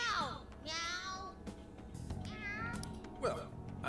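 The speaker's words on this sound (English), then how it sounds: "That sure is a noisy cat." A cat in Persona 5 Strikers meows several times in quick succession, rising and falling cries that are close and clear, mixed with game voices talking.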